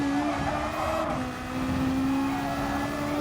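A Gr3 race car in Gran Turismo Sport at Bathurst drones steadily at high revs, bouncing off the rev limiter with a constant buzzing engine note and no talk.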